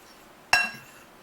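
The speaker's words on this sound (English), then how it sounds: "And then I'm just gonna mix it up with my fork." A single bright clink of a fork striking a glass bowl while mixing seasoned ingredients, a sharp ringing tap that fades quickly in a quiet room.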